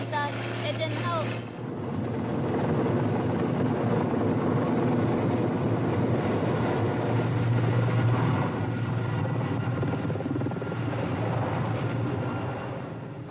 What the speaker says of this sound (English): A helicopter was on the scene again today.